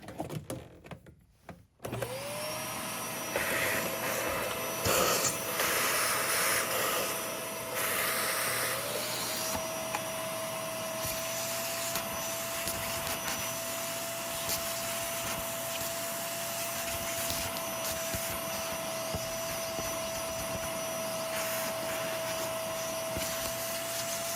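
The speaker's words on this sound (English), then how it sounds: "I'm going to go ahead and vacuum all that out." A Eureka NES210 swivel vacuum cleaner starts up and runs steadily with a high whine and constant airy roar, close by, no voices.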